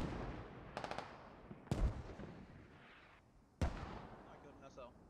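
Mortar volleys in a SquadOps video game land as a few faint, scattered booms and sharp cracks, with quiet stretches between them.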